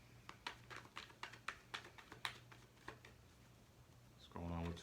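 Tarot cards being shuffled by hand, a run of soft papery riffles and taps at a quiet, close level before a louder thump at the end.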